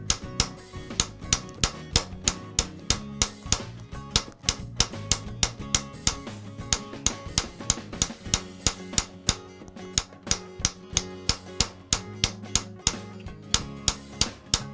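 Rapid, steady hammer blows on a metal concave bracelet as its curve is refined, bright ringing taps repeating evenly several times per second, close and continuous with no talking.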